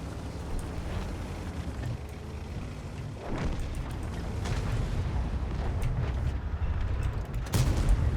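Tank cannon fire during a World of Tanks battle: heavy booms over a steady low rumble of game noise, with a strong report near the middle and another loud one near the end.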